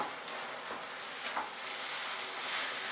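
Cabbage and potato curry with shrimp being stirred over a high flame, a faint continuous sizzle with soft scraping strokes of the spoon in the pan at irregular intervals.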